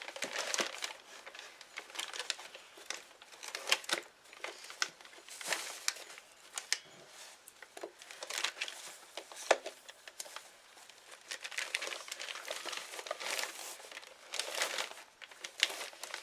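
Plastic bag crinkling and rustling as a red EasyPress heat press is unpacked, with continuous close crackly handling noise in bursts throughout, no talking.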